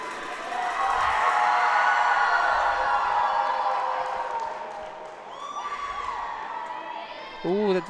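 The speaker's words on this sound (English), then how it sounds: "You can hear them all cheering for him." Spectators at a collegiate 3D archery nationals cheer and whoop for a recurve archer, a loud crowd roar with shouts that fades midway, then scattered voices and a brief burst of nearby yelling.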